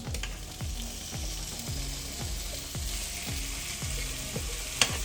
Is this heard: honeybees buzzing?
no